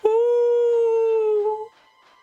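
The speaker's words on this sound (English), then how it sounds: "That was a wolf howl." Wolf howl from The Grinch video game: a single clear, sustained tonal howl that starts abruptly, holds a steady pitch with a slight waver, then fades out, close and loud with no talking.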